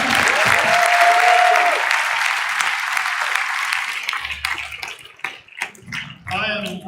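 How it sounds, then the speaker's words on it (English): A concert audience gives loud, sustained applause for a school jazz band, a thick wash of clapping with a whistle early on, thinning into scattered claps and a voice speaking near the end. "One more round of applause for the jazz band."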